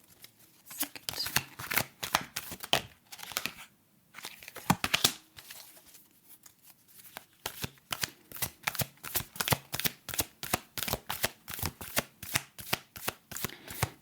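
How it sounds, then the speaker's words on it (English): Tarot cards are shuffled repeatedly up close, rapid riffling bursts separated by short pauses, then a long fast run of crisp flicks. "So while I'm shuffling the cards"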